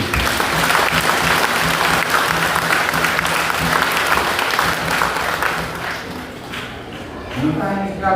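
Dense, sustained applause from a church congregation at a Saint Joseph parish feast in the hills of Belle-Vue, Jacmel, Haiti, loud and close, thinning slightly toward the end as a voice comes through.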